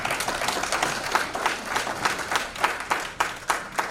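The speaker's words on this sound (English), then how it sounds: "Please, that deserves a round of applause." A crowd applauds steadily, a dense wash of many hands clapping at moderate distance, rising and falling slightly over a few seconds.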